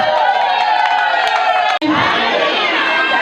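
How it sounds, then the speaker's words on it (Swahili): A large crowd cheers loudly at a gathering, with ululation and shouting over clapping, briefly dropping out at one cut before resuming. "Piga makofi na vigelegele."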